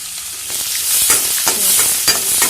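Vegetables sizzle loudly in a hot pan while a utensil scrapes and stirs through them in a few quick strokes, close up.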